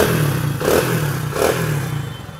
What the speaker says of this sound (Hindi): तो आसानी से सेल्फ काम कर रहा है,